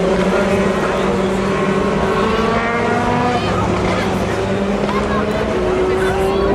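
Le Mans LMP2 prototype race cars with Gibson engines roar past in a steady, loud stream of overlapping engine notes with shifting pitch, crowd noise faintly underneath.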